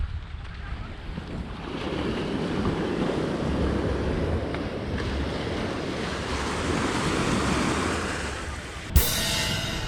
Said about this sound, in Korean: 파도가 진짜 좋다